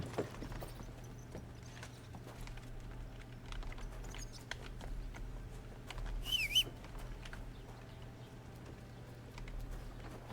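Hooves of a video game horse named Pebbles clip-clop softly at a steady walking pace over a low constant hum, quiet and without talk.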